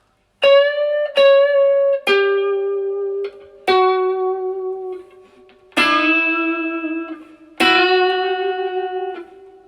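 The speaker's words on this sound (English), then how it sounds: "this amazing fun thing that I love to do called a unison bend" Six unison bends on electric guitar, several strings ringing together, each note struck and bent up a whole step to rise in pitch, sustained with heavy effects and reverb, played alone.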